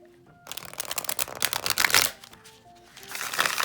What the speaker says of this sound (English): Let's see if I'm going to be able to shuffle it.